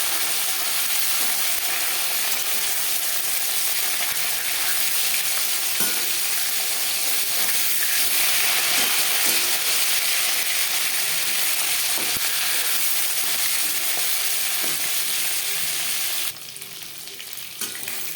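Katla fish fries in hot oil in a wok, giving a loud, continuous crackling sizzle that runs steadily with small pops and then drops abruptly near the end. There is no talking.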